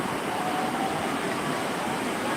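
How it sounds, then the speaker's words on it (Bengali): A steady, soft wash of surf rolls on without pause, low and even, like waves spreading over sand at some distance, on the sea beach at New Digha. "আর একটা ঢেউ আসছে"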